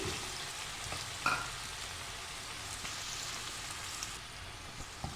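Chopped onions sizzle steadily in a pan for a Kabyle cauliflower patty, a soft continuous hiss with one brief clink of a utensil near the start.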